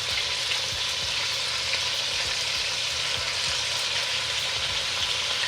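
Chicken and broccoli steaks sizzle steadily in a hot pan, a close, even frying hiss that never lets up, with faint low stirring scrapes underneath and no talking.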